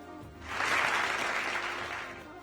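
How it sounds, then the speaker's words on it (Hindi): A studio audience at a Ramadan TV quiz and debate show claps in a short burst that swells quickly, then fades over a couple of seconds. "बहुत देर में तालियां बजी।"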